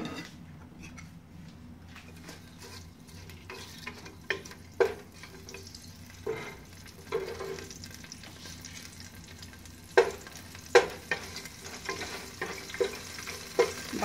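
Whole cloves, cardamom pods and a bay leaf fry in oil in a pan for an Andhra-style mutton paya curry, a soft steady sizzle broken by sharp scattered pops and occasional stirring clinks close by.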